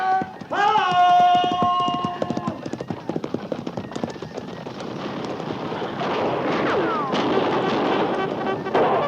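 Cavalry horses breaking into a gallop, with rhythmic hoof clip-clops close by, a brief whinny at the start and a rumbling mass of hooves building later, all beneath shouted commands and voices.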